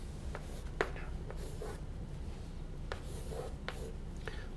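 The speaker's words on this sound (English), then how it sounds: "So if I were to write a number," Writing a number on a board during a chemistry lecture gives quiet, scattered tapping and scraping strokes that come in short bursts over a faint steady room hum.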